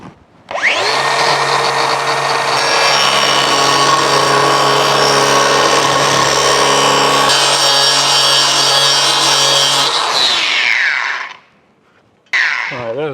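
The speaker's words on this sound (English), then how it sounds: "We're going to just come in here with an angle grinder and grind that out." An angle grinder grinds out a crack in a cast iron part from a John Deere Hercules mill with a loud, close, sustained high whine, winding down after about ten seconds, a pause, then restarting briefly.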